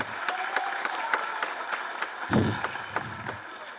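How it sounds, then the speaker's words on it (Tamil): An audience at a Tamil film event claps steadily at a moderate level, with sharp individual claps audible through the crowd and a brief low thump midway. "அவனுக்கு ஒரு பலத்த கரகோஷம் கொடுங்க"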